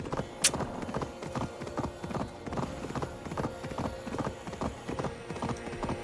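Rhythmic horse hoofbeats in Assassin's Creed Valhalla clip-clop steadily at a walking pace, fairly close, with a brief sharp click early on and a faint horse whinny in the mix.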